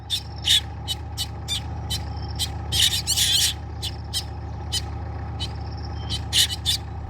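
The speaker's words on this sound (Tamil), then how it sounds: "இதுதாங்க அந்த கரிச்சாங்குருவி." A black drongo calls in short, sharp, repeated bursts, bright and fairly near, over a steady low background hum outdoors in the Thondi area of Ramanathapuram district.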